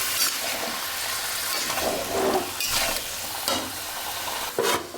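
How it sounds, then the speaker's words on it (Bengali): Beef and potatoes stirred and sautéed in a pan, with a continuous close sizzle and repeated scraping strokes of the spatula. "মাংসের সাথে আলু দিয়ে দিচ্ছি এখন ভালো করে কষাবো"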